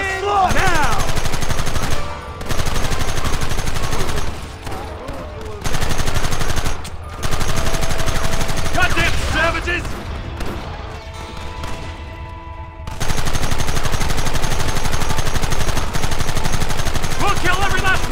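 Heavy gunfire rattles through a Red Dead Redemption shootout: rapid, loud volleys of overlapping shots in long sustained bursts, broken by brief lulls before the firing resumes.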